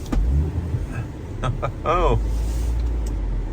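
A 2004 Volvo S80 2.5T with a 208 hp five-cylinder pulls away, its low engine rumble swelling steadily from inside the cabin while a person exclaims and speaks over it.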